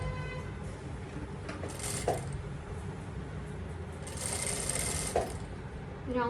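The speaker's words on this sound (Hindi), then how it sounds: "थोड़ी सी स्टिच लगाई, इसको पलटी किया, थोड़ा सा खिसकाया और स्टिच लगाएंगे" A sewing machine runs steadily while stitching a long gown, a continuous mechanical whir with brief pauses and clicks as the fabric is turned and shifted.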